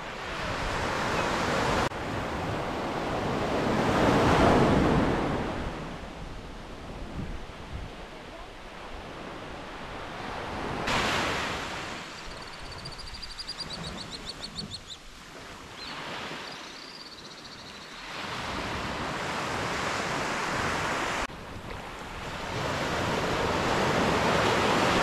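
Ocean surf at Carvoeiro on the Portuguese coast, broad washing waves rising and falling in long surges over the span, with gusty wind noise on the microphone and stretches of louder roar.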